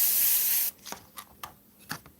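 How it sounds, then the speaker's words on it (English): An airbrush sprays Createx paint through a stencil onto synthetic paper: a steady hiss for under a second, then several short, faint puffs of spray. "You spray it lighter, you spray dark to light, and you get all kinds of effects."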